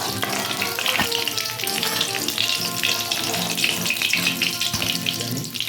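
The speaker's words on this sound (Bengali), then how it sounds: "মাথাটা অলরেডি ভাজা হয়ে গেছে দেখুন বন্ধুরা এইভাবে ভেজে নিলাম" A fish head fries in hot oil in a pan, a loud, close crackling sizzle that runs continuously with occasional knocks as it is moved and lifted.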